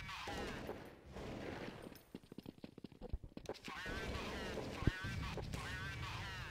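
Gunfire shot through boxes in a video game match at an ESEA LAN event: rapid bursts of shots cluster in the middle, riding under continuous excited commentary.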